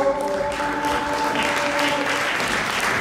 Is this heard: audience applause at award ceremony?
yes